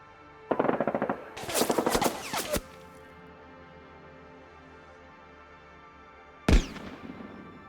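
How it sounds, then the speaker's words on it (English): Two rapid bursts of submachine gun fire, an Axis squad's SMGs shooting back at an American squad in a Konflikt '47 alpine battle, crackle loud and close, then one lone sharp shot follows after a pause. "the Axis platoon commander is going to be ordering his troops to fire their SMGs back at the American platoon commander's squad"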